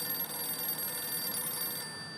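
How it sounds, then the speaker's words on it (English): A telephone rings in a home with a steady electronic bell tone, holding evenly for about two seconds and then stopping, with no talking. "the only thing left to do is wait for the phone to ring."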